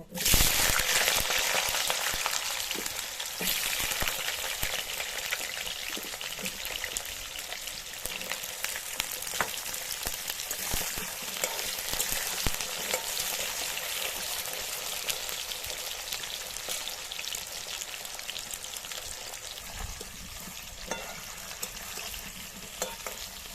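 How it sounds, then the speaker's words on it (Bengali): Cut potato and plantain fry in hot white oil in a wok for a traditional shukto, a continuous bright sizzle with scattered stirring clicks and scrapes running unbroken for over twenty seconds. "তেল গরম হয়ে গিয়েছে, এবার শুক্তো সবজিগুলো ভেজে নেব। আলু আর কলা ভেজে নেব।"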